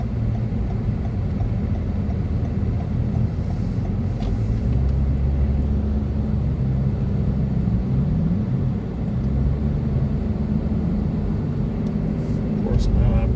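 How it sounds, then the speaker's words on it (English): Inside a car driving through the streets of Vinton near Roanoke: a steady low road and engine rumble fills the cabin throughout, with someone talking over it. "Of course, now I'm driving."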